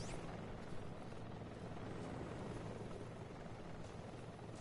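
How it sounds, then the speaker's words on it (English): A helicopter from the Metal Gear Solid Delta video game, a steady broadband rotor and engine roar that holds at a constant level throughout, with no talk over it. "That's a horrible helicopter, man."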